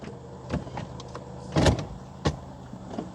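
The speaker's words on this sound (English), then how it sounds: "Now you can hear my transmission thunk into gear." A 2012 Honda CR-V with over 390,000 miles gives a few dull mechanical clunks and thumps as the transmission drops into gear, with one heavier thunk in the middle, close and fairly loud.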